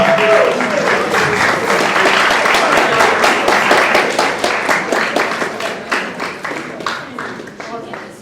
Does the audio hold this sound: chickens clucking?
no